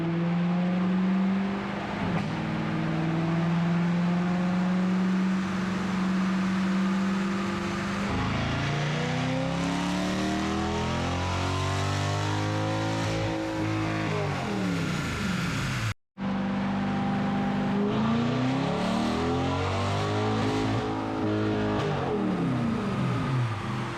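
A 2021 Corvette C8 with modified exhaust accelerates hard through repeated gear pulls, a loud, close, sustained roar that rises in pitch, drops at each shift and climbs again, briefly cutting out midway.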